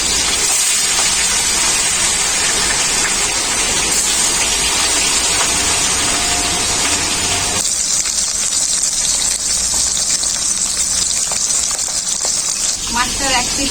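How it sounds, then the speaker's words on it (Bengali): Fish fries in hot oil, a loud, continuous spattering sizzle close by that shifts partway through and settles into a softer, steadier crackle; a voice talks over it. "এখন মাছগুলো ভেজে নেব।"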